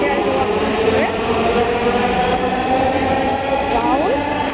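A metro rail train rumbles through a station, with a steady roar of wheels on track, faint screeching tones, and some background chatter from people nearby.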